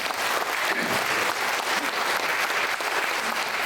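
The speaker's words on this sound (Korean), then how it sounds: "박수 좀 보내주세요" An audience at a Christian officers' choir prayer breakfast claps steadily, a full, even round of applause from many hands in an indoor hall, sustained and fairly close with no break.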